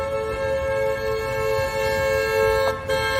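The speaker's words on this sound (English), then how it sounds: "Zena, do not get on the horn." A car horn blares in one long, continuous tone held for several seconds, loud and close from inside the vehicle, as a dog presses on it.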